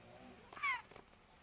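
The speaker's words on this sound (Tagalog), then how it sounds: "Meow, meow, meow, meow, meow." A single short cat meow, fairly quiet, rising briefly over faint background noise.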